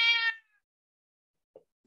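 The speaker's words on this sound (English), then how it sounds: "My cat, he's been noisy." A cat gives a single short, loud meow near the start, then near silence with only a faint tiny sound afterward.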